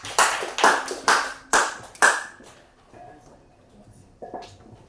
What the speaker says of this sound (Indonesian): mari kita beri tepuk tangan lagi kepada Ibu Edith